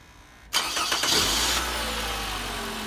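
A 2010 Toyota Camry with a newly fitted starter cranks briefly after a quiet moment, then catches and settles into a steady low idle, close and fairly loud, with no talking.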